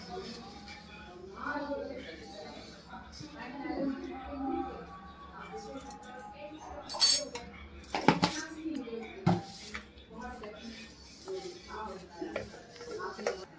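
A spoon scrapes and clinks against a jar or bowl while salt goes into a chili pickle, with scattered metallic taps and a sharper cluster of clatter midway, heard under ongoing talk from a woman nearby.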